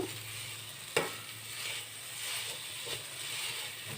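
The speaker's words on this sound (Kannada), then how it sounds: "ಸಕ್ಕರೆ ಸೇರಿಸ್ಬಿಟ್ಟು ಈ ಥರ ಮಿಕ್ಸ್ ಮಾಡ್ಕೋಬೇಕು" Sugar is stirred into dum semiya, a sweet vermicelli dish, in a hot pan: a soft steady sizzle and hiss with a sharp spoon knock near the start and a fainter one later, no voices.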